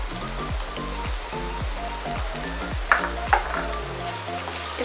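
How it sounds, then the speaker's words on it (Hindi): Cabbage frying and being stirred in a hot pan, a steady close sizzle with a couple of sharp spoon clinks against the pan partway through and no talking. "इसको भी फ्राई करेंगे, 2 मिनट के लिए पकाएंगे।"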